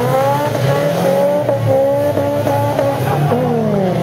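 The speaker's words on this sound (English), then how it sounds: "Here we go with the Honda S2000. And here comes another Impreza." A Subaru Impreza and a Honda S2000 race on a track, engines revving loudly up and down through gear changes, with tires squealing as the cars pass close by.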